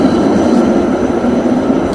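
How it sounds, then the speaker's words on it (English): A tram passing along busy Aleksanterinkatu street in Helsinki, a steady loud rolling rumble with a faint rail clatter, close by and continuous, with no voices. "the tram keeps going because it's busy here"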